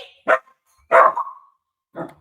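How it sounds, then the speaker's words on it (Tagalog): A dog barks three times in separate sharp bursts, fairly close, with short pauses between them and no talking. "Maingay yung aso."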